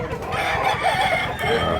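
A bullstag rooster for sale at a market in Mantalungon, Cebu, crows and clucks loudly and close by, one sustained call over a dense wash of background noise.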